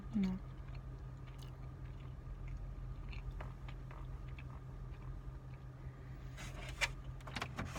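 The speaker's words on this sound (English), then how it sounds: "It's hard to chew walnuts." Walnuts being chewed close to the mouth, with soft crunching bites and clicks over about eight seconds and no talking.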